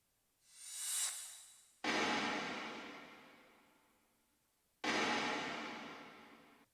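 In a metal mix with no EQ, a reverse cymbal swells up into a snare bomb hit that decays slowly, followed by a second crashing hit and long fading wash, heard alone.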